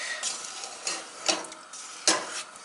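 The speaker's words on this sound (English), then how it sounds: "we will just be standing here and stirring it constantly until it is the perfect golden brown color" Butter for English toffee stirred in a pan, with a few scraping strokes of the spoon rising out of a steady soft sizzle, close and fairly quiet.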